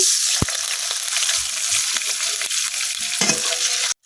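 A little water poured into a hot pan of frying garlic and other ingredients for a village-style chicken curry, producing a loud, close, continuous hissing sizzle that cuts off abruptly at the end.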